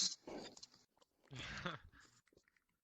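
Someone munching on ice, with crunchy chewing bursts in two main clusters separated by a short pause, close and fairly loud, with a few faint trailing crunches.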